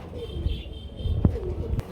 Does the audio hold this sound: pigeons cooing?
yes